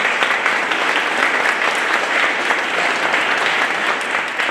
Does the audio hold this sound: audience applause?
yes